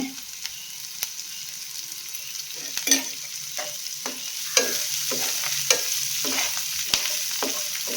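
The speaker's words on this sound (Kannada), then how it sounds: "ನೀವು ಸ್ವಲ್ಪ ಹುರಿಬೇಕಿದೆ. ಕೊತ್ತಂಬರಿ ಮತ್ತು ಕರಿಬೇವು ಹಾಕ್ತೀನಿ." Coriander and curry leaves fry in a pan for an avarekaalu palya, giving a soft steady sizzle broken by regular scraping stirs of a spoon against the pan, close and fairly quiet.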